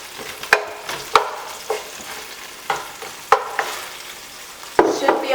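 Onions sautéing in a hot pan over low to medium heat, a soft steady sizzle broken by several sharp stirring scrapes and knocks at irregular intervals, close and alone without talk.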